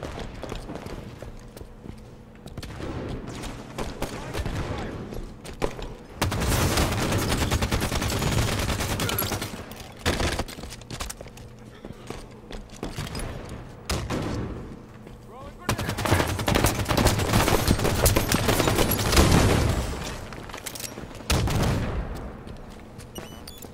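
Assault rifle fire in the Halo 5 video game, long dense bursts of rapid automatic shots coming in two sustained volleys, separated by quieter stretches of lighter gameplay noise.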